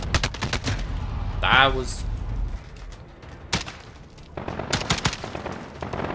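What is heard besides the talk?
FAL rifle semi-automatic gunfire in a video game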